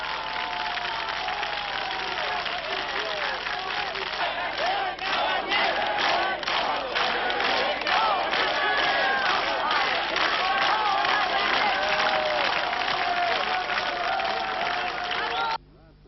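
Dense, roaring crowd at a Mitterrand election-night celebration in France, a continuous wall of cheering and shouting voices held at steady loudness throughout, ending abruptly.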